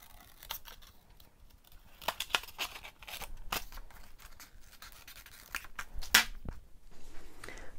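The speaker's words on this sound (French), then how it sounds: "Donc on refait exactement le même sapin sur un brouillon et je vais le découper." Scissors snip through paper while cutting out a Christmas tree shape, quiet close clicks and crisp short cuts spaced irregularly, with faint rustling of the sheet between snips.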